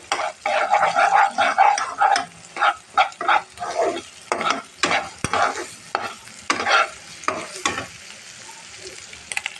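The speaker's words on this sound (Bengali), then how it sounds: "ডিমটাকে মিক্স করবো সবাই সবগুলোর সাথে" Egg is stirred into a frying meat and noodle mixture in a pan, with rhythmic scraping strokes over a continuous close sizzle.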